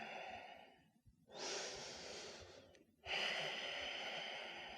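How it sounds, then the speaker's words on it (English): Deep, even yoga breaths close to the microphone, a long airy exhale followed by a steady inhale after a brief pause, soft and unhurried. "Tune into a deeper breath. Even inhales, even exhales."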